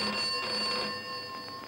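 An old telephone bell ringing in a late-1960s Hindi film scene, a steady high metallic ring held through the moment, fairly faint against a quiet background with no voices.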